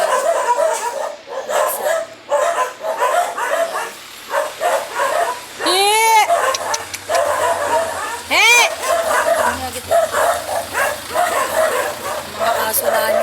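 Dogs at a small rural mountain village eatery bark and yip repeatedly nearby, with sharp bursts and whimpering yelps mixed in, while a person shouts and talks over the commotion.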